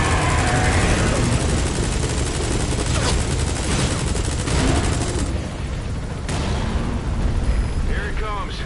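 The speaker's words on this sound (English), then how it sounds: "Use the chopper's minigun." Rapid sustained gunfire from a helicopter's minigun during a Metal Gear Solid V: The Phantom Pain mission, a dense continuous roar of shots and blasts with a voice talking over it.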